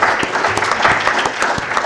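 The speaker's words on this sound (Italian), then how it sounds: "farei un grande applauso per il lavoro quotidiano che fanno" An audience at a round-table discussion on research, forensic genetics and communication breaks into dense, steady applause. It is loud and continuous, with many hands clapping at once.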